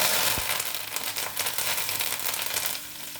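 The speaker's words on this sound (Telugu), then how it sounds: "ఇప్పుడు ఈ పోపులు ఎర్రగా వేగినాయి. ఇందులో కరివేపాకు, జీలకర్ర, ఎండుమిర్చి వేసేస్తున్నాం." Curry leaves, cumin seeds and dried red chillies are tipped into hot tempering oil, giving a steady crackling sizzle after a single sharp drop at the start.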